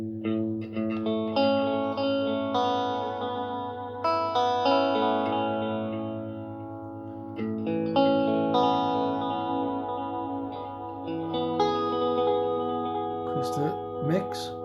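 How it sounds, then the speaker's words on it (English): Guitar played through an Electro-Harmonix Canyon delay pedal set to a longer delay time, sustained chords and notes trailing into repeating echoes, loud and close with a thick effected sound and no talking. "Let's increase the delay time."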